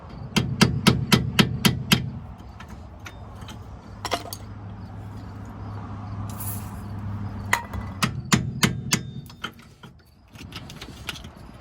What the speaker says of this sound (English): We're gonna hit it with a hammer and it should start splitting it.